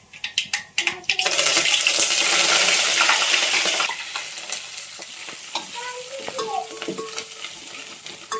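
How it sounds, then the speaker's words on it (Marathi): Dal being tempered in a pot on a wood-fired stove: a few sharp clinks, then a loud burst of sizzling frying for a couple of seconds that settles into quieter sizzle with stirring and scraping sounds. "आता डाळीला चटका द्यायचा आहे"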